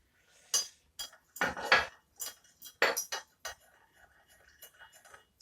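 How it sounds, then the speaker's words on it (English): A spoon clinks against a container while two teaspoons of sugar are stirred through about a litre of liquid for no-knead bread, giving irregular, close, fairly soft metallic taps and scrapes. "Stirring that through."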